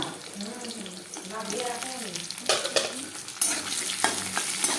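Chopped onion and a bay leaf frying in hot oil, a continuous close sizzle with stirring and clattering that grows louder partway through, while someone talks over it.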